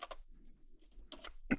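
Someone types a short prompt on a computer keyboard, a few quiet key clicks in two small bursts separated by a pause, close and faint with no talking.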